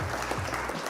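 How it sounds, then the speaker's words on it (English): A brief burst of applause with steady, dense clapping during a live Flesh and Blood card game stream. "And round of applause from Mitch"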